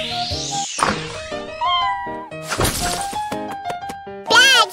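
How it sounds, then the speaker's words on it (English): Cartoon cat meowing in a Babybus math game, several bright, stylised meows and yowls mixed with playful cartoon sound effects, thuds and a sweeping whistle, loud and up front with no talk. "Quacky, stop chasing the cat!"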